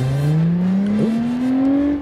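An Audi A8 Quattro engine in the BeamNG driving game revs steadily upward in a smooth rising drone, loud and close, with a brief wobble midway and no talking.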